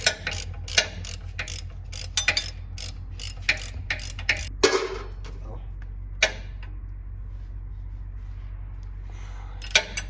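A ratchet wrench clicks in short bursts while bolts are turned during a 5.9L Cummins engine swap, close and crisp, then goes quiet with a faint hum and a few isolated clicks.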